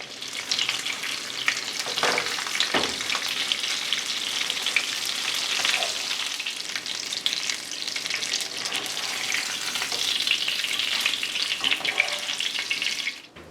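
Thin breaded Milanesa steaks fry in hot coconut oil with a steady, dense sizzle and crackle that runs throughout at an even level. Occasional soft pops and scrapes break through the sizzle.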